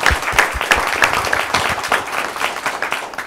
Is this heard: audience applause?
yes